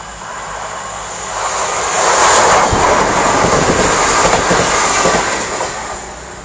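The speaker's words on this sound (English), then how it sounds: "passing by now, we have a cross-country turbo star going from Nottingham to" A CrossCountry Turbostar diesel train passing through Beeston station on the Midland Main Line, a broad rushing roar that swells over a few seconds, holds loud, then fades slightly.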